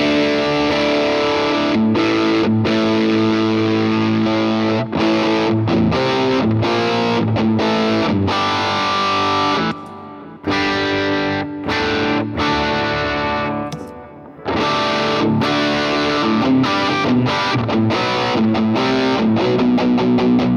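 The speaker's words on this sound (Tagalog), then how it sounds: "Ito yung drive tone." An electric guitar plays through a distorted drive tone with the compressor switched off, sustained chords and riffs ringing loud and continuous with a few brief pauses between phrases.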